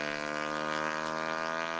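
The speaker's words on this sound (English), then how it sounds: "That's kind of funny how we can still hear the motorcycle." A motorcycle engine droning in a horror video game, a steady, even hum with a constant pitch that holds unchanged throughout, moderately loud with no voices over it.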